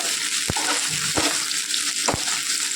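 Food frying in oil in a pan for a spicy homestyle dish, a steady close sizzle with three sharp stirring clanks spaced about a second apart.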